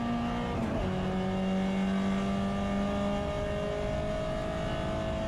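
A touring race car in a CSCC Tin Tops race at Silverstone accelerates hard out of the Loop onto the Wellington Straight, its engine note loud and close, rising steadily through the gears with a brief shift break near the start.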